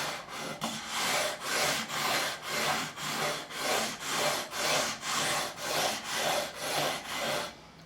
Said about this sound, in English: turning the levelling beam over to the 320 grit side a little bit smoother